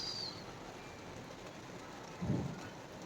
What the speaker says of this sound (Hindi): तो अभी तो बारिश स्टार्ट हो गई है